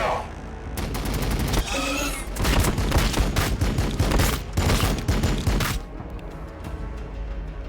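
Dense, loud gunfire from the Warhammer 40,000 Battlesector strategy video game, with overlapping bursts and rapid automatic fire rolling on for several seconds before easing into a thinner, lighter crackle.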